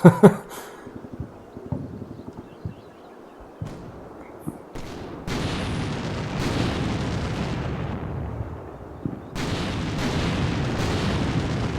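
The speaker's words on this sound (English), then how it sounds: "And our own shells are finally landing" Artillery shells landing in a war video game: a sharp blast at the start, then heavy rumbling explosions and booms that swell and linger, with scattered distant impacts.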